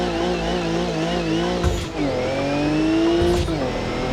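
A car in BeamNG Drive on a Formula 1 track holds a loud, buzzing, high-revving engine note that dips and climbs through quick gear changes, with tire noise as it slides.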